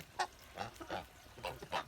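Geese of the Kholmogory breed honk in a farmyard, five loud nasal calls spaced through the clip with quieter cackling between them and no talk.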